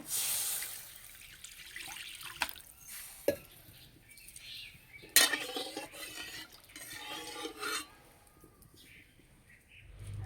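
Pre-boiled, thickened cow's milk poured into a wok, giving soft liquid splashing and trickling with a few clinks and bumps from the pan, moderately near, with no talking.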